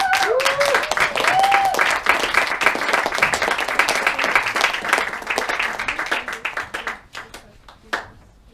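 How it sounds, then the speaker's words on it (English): Audience at a clown show gives warm, dense applause with a few whoops at the start, the clapping holding steady before thinning into scattered claps and dying away near the end. "a big warm round of applause all the way from Schoenberg for ClownSlam4"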